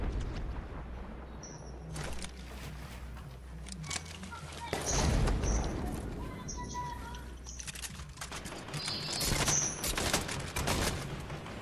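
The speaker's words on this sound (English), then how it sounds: "Somebody shooting at us?" Gunfire in a Fortnite Battle Royale match, scattered shots and short bursts popping at mid distance through a busy game soundscape, with players talking over much of it.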